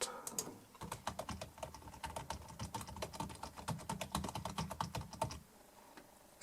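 Quick bursts of typing on a computer keyboard, a string of light, close key clicks in an uneven rhythm that fade to quiet at the end.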